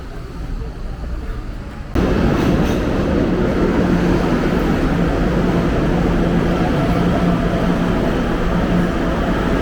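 A metro train in Rio de Janeiro, quiet at first, then a sudden loud steady roar of the cars running along the track that carries on to the end.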